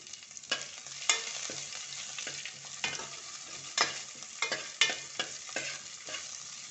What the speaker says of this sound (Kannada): ಈಗ ನಾನು ಕಟ್ ಮಾಡಿ ಇಟ್ಕೊಂಡಂಥ ಈರುಳ್ಳಿ ಹಾಕ್ಕೊಳ್ತೇನೆ. ಹಾಗೆ ಹಸಿಮೆಣಸಿನ್ಕಾಯಿ ಹಾಕ್ಕೊಳ್ತೇನೆ.